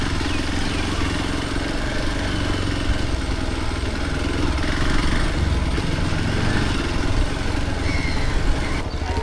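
Motorbike ridden in Nepal during the rainy season, its engine droning continuously and close with a steady, rough rumble and wind noise, no pause over the whole stretch.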